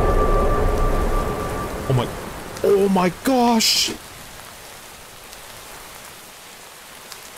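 Rain hisses steadily in the Minecraft DawnCraft modpack, loud at first and then fading off, while players exclaim and talk over it.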